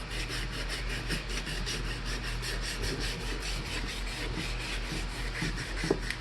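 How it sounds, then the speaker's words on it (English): Continuous rhythmic rasp of sandpaper rubbing back and forth on wood, steady and close, with no one speaking. "I'm going to finish sanding this out."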